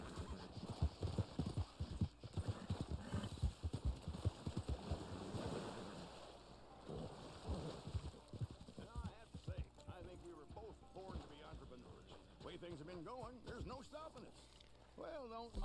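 Horse hooves clip-clop in the Red Dead Online video game, a quick uneven patter of hoofbeats up front that later gives way to someone talking over the game sounds.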